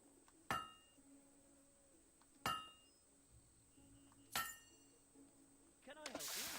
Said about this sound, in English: Hammer blow.